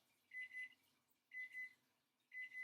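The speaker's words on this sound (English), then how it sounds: "That's my timer for my muffins." A kitchen timer for baking muffins beeps in quick double pulses, repeating three times at a steady pace, fairly faint in a quiet room.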